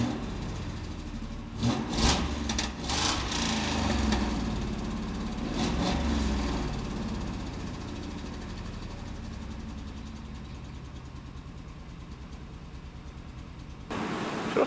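An abandoned 1959 Pontiac Catalina with a blown exhaust manifold gasket runs steadily at idle, a low continuous rumble heard close up, with a few brief clatters and thumps near the start.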